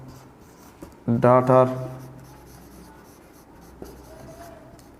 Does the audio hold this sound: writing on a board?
yes